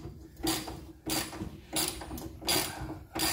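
Rusty bolt on an MGB wing window being tightened with a ratchet: four or five short, dry clicking strokes in a steady rhythm, close up and fairly quiet, with no talking.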